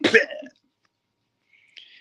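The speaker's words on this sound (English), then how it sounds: "she's coughing and burping as babies do" A baby gives a single short, harsh cough-like burst up close, followed by silence and then a faint high squeak near the end.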